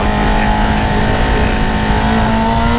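A Honda CBR sport motorcycle engine roars steadily at high revs while being ridden, a loud, continuous close-up drone with a rising pitch and no pauses.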